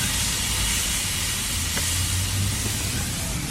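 A green chile hamburger patty is set on a hot grill and sizzles with a steady broadband hiss that stays even and close throughout, with no talking over it.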